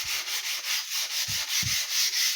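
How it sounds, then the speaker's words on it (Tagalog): Sandpaper rubs by hand over a resin top coat on laminate, brisk rhythmic strokes about four or five per second, close and steady, with a few soft low knocks. "Tsaka ang liha, isabay nyo sa haspi ng wood."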